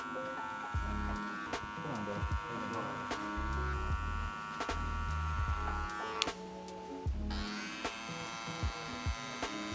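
Electric shaver working through a mid fade haircut, a steady close electric buzz with short clicks and taps, while people talk quietly over it.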